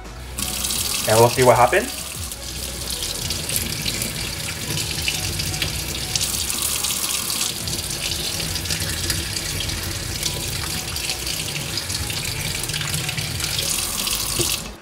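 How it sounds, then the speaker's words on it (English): Tap water runs steadily onto a water-repellent reusable face mask, a continuous hissing splash held under the faucet for the whole stretch, with a person speaking briefly near the start. "So I just want to turn on the water."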